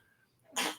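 A single short, sharp sneeze bursts out close and loud after a quiet moment.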